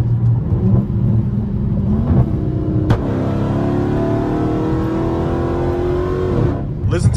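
A car driven in track mode holds high RPM with a loud, sustained engine drone and rising pitch, a sharp shift-like break midway, heard from inside the cabin.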